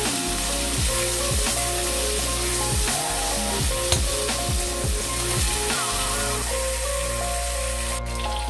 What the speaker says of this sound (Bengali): দেখুন আমি এবার টমেটোকে ভেজে নেব।